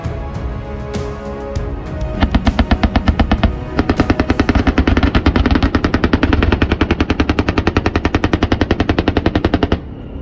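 A 35mm Oerlikon Revolver Gun Mk3 air-defence cannon firing a long sustained burst of rapid, evenly spaced heavy shots, loud and close, ending abruptly after several seconds with no speech.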